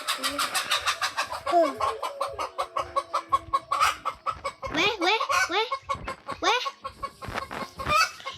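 Rapid, repeated clucking and squawking of a chicken in a Roblox game, loud and close, with a continuous rhythmic patter of short bursts and occasional higher calls.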